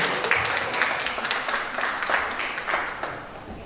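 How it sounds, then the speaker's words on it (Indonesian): An audience at a discussion on dance gives a warm round of applause to welcome a speaker, steady clapping from a moderate crowd that gradually fades out. "boleh tepuk tangan yang luar biasa."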